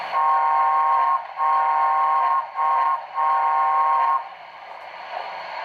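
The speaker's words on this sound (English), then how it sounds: "13 is the grade crossing whistle." Grade crossing whistle from a BLI Paragon4 sound-equipped model of the T&P 2-10-4 steam locomotive #610, a loud steady steam whistle in four blasts, two long, a short one, then a long one, fading to a low hum.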